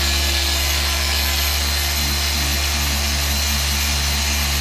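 A polishing machine buffing the front wheels of a 2018 Dodge Charger ScatPack, giving a constant loud motor whine and whir that runs steadily and close up without a break.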